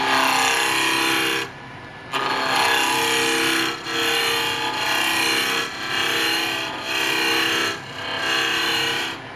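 A wood-turning gouge cuts across a spinning blank on a lathe, knocking down its corners: a loud, steady rasping scrape in repeated passes, broken by brief pauses as the tool lifts and moves.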